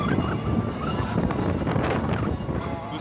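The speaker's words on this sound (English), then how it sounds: "The wind is still cold." Cold wind blows steadily across an outdoor microphone, a continuous loud buffeting roar with gusty swells and no let-up.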